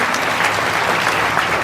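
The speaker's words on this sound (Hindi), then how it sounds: "जोरदार ताली बजा दी है" Loud, steady applause from a crowd gathered at a village cowshed during a grand Kalash Yatra procession and cultural programme, continuous dense clapping throughout without pause.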